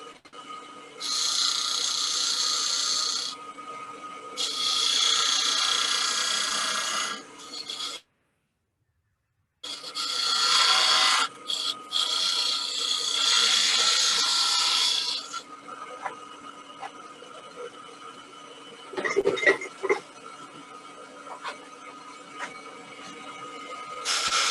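A lathe tool cuts a dovetail into a spinning wooden pepper mill blank, giving long harsh rasping passes broken by a brief silent pause, then lighter scraping and a few knocks toward the end.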